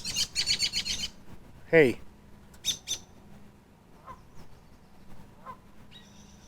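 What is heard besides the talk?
bird making noise at speaker's feet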